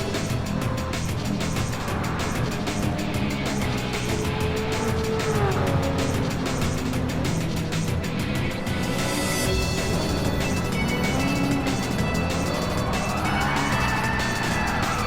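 A C2 Corvette race car loses grip on a racetrack, its engine roaring steadily as tires scrub and squeal, with other race engines rising and falling nearby throughout.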